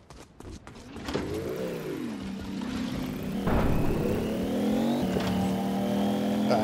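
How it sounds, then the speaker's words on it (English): A car engine in the video game Fortnite revs up and down repeatedly, its pitch sweeping as it accelerates and shifts, loud and close with no talk. "The hell kind of car is that?"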